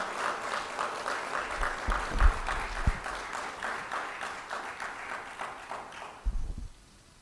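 An audience at an insurance event in India claps to welcome a speaker to the stage, a steady mid-level ovation of many hands that carries on for several seconds before fading out near the end.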